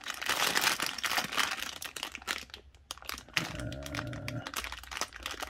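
Plastic crinkles and rustles in short bursts as a bag of knock-off Lego-style building bricks is handled up close, with a brief low hum partway through.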